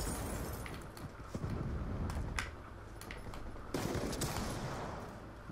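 Rapid gunfire in Black Ops 2 Gun Game mode, bursts of shots crackling in quick succession with a brief pause mid-way, faint and distant-sounding.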